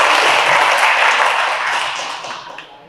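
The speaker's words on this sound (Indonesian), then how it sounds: "Tepuk tangan dong buat kita semua." Audience applause at a teachers' workshop on work and industry culture, a dense wash of clapping from a large crowd, loud at first and gradually fading over a few seconds.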